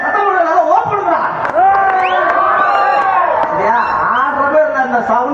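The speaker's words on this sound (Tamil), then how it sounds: "கைத்தட்டுங்க, ரொம்ப சந்தோஷம்." A village crowd at an outdoor clown performance cheers and shouts loudly, many voices whooping and calling out together in a lively, sustained roar close by.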